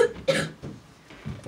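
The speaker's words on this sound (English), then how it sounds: "I hate coughing." A single sharp cough, followed by a couple of quieter throat-clearing coughs, close and alone.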